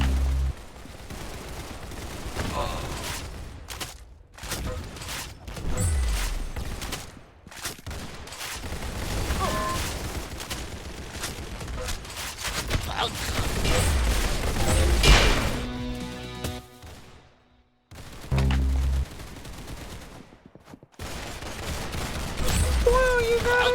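Gunfire and impact sounds in the Roblox game Arsenal, scattered shots and crashes throughout with several louder bursts and brief gaps, under a busy game mix.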